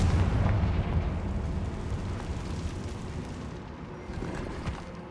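Confringo fire spell going off in Hogwarts Legacy as a heavy, rumbling blast that starts loud and decays into a long crackling roar, with no voices over it.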